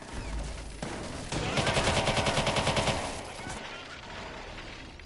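Rapid gunfire bursts in Watch Dogs 2, a dense rattling volley in the middle with quieter shots before and after, close and loud under talk.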